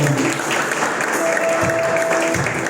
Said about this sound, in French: Donc si tu étais là, acclame le Seigneur comme ça.